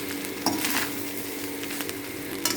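Rice frying and being stirred in a pan, with spices, sugar and salt mixed in, giving a steady sizzle broken by a few sharp scrapes and clinks of a utensil against the pan.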